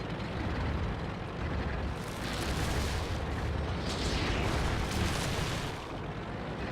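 A deep, rumbling blast from a tank cannon in World of Tanks, a broad low roar that swells and sustains, backed by steady engine-like battle noise throughout, with no talking.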